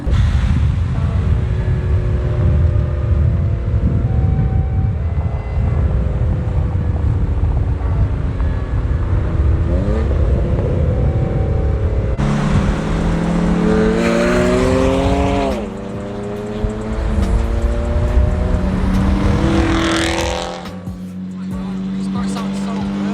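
A Lexus fitted with a new exhaust muffler revs loudly and steadily, with rising and falling engine pitch sweeps through the middle and later part, under people talking excitedly throughout.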